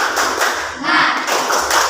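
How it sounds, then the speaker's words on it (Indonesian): A group in a classroom claps together in a quick rhythmic pattern, several bursts of hand claps close by with voices mixed in. "Tepuk semangat"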